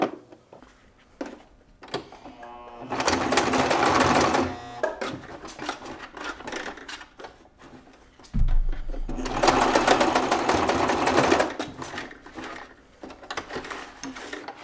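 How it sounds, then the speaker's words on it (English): A sewing machine stitches a quarter-inch seam on a bottom panel: two long, loud bursts of rapid whirring needle chatter, separated by quieter handling clicks and fabric rustles, close up. "Go about a 1/4 inch seam. And stitch that down."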